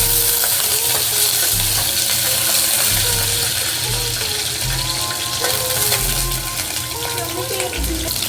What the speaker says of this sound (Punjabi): ਹੁਣ ਅਸੀਂ ਇਹਦੇ ਵਿੱਚ ਪਾਵਾਂਗੇ ਜੀ ਲਸਣ ਅਸੀਂ ਭੁੰਨਾਂਗੇ ਜੀ